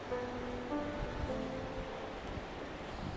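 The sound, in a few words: beach ambience with waves at sunrise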